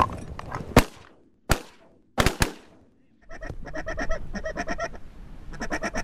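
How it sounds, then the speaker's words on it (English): Ducks calling during a waterfowl hunt: after a few sharp loud bangs, a run of repeated nasal honking calls carries on steadily at moderate distance, with some faint background voices. "Oh, there's ducks."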